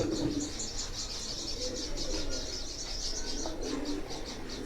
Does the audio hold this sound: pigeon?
yes